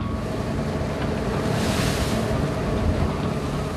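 Heavy sea waves spray and crash onto a fishing boat at sea, a dense continuous roar of water and wind close to the microphone, with no voices.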